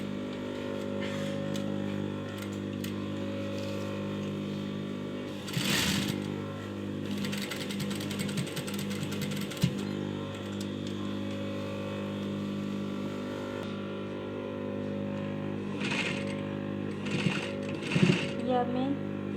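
A sewing machine runs steadily while stitching the corner of a shirt, a continuous mechanical whir with a few louder bursts and knocks as the fabric is handled, and a voice speaks over it.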